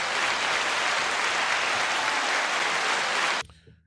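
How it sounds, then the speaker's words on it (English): A steady wash of audience clapping fills the space evenly, then stops abruptly just before the end, leaving near silence. "Clap it up."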